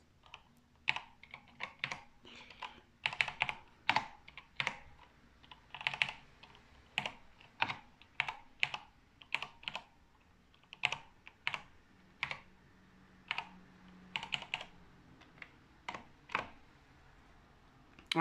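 Typing on a Nixdorf CTD7YSNCRKB11 computer keyboard, with close, crisp key clicks in irregular bursts and short pauses, loud and clear with no voices.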